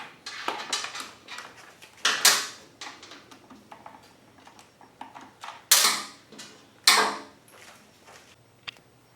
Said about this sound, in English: We'll go ahead and pull our little screws out of here.